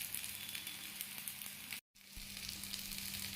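Snack pieces fry in oil over a low flame for a Bengali healthy nasta, giving a steady, close hiss and sizzle. The sizzle cuts out briefly partway through, then resumes.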